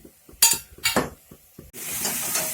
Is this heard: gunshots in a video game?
no